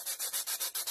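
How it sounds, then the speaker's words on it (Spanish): Sandpaper rubbed back and forth along a knife-scored cut line in a craft project, a close, steady series of rhythmic raspy strokes, about five passes in one second with no talking. "Vamos a pasar la lija justo por donde pasamos"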